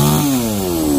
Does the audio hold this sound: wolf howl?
no